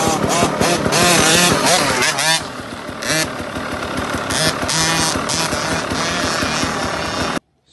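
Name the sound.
motocross motorcycle riding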